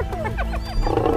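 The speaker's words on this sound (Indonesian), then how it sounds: "Singa teman-teman." A lion roaring at a zoo-like wild animal display, a loud, close, sustained growling roar that swells and grows harsher toward the end.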